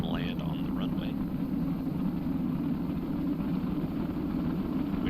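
In Kerbal Space Program, a big, heavy spaceplane glides in toward a runway landing, a steady dense engine drone holding constant throughout, with a voice talking over it.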